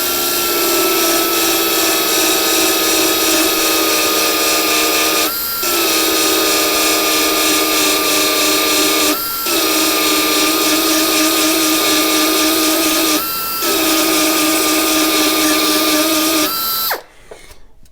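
A small belt sander grinds down a weld on a Jeep XJ rocker panel, running as a loud, steady whine in close continuous passes with three brief dips before it stops near the end.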